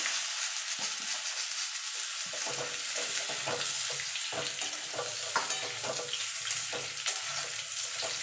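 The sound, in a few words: papaya and potato frying in oil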